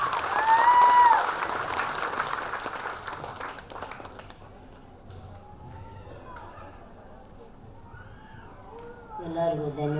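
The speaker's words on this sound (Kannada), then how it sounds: "ಸೊ ಅದಕ್ಕೆ ಚಪ್ಪಾಳೆ, ಜೋರಾಗಿ ಚಪ್ಪಾಳೆ." An audience at an annual day function at Rajkumar Kalabhavan applauds, a dense loud clatter of clapping that fades after a few seconds, giving way to quieter sound with a voice speaking.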